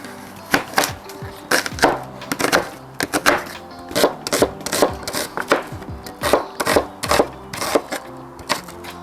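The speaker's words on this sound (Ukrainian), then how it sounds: "Зараз швиденько нарізаю цибулю і йдемо до казана. Наріжу її напівкільцями." Knife slicing onion into half rings on a cutting board for carp cooked in sour cream, a series of close, sharp chops in uneven quick bursts with short pauses between.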